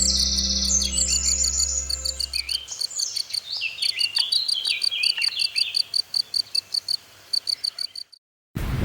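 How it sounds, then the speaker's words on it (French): Birds call and chirp at the edge of a lake, with rapid repeated high tweets and trills that continue for several seconds over a low hum that fades out early, with frog-like croaks and insect buzzing mixed in. "un étrange oiseau est venu se poser en bordure du lac d'Agesse"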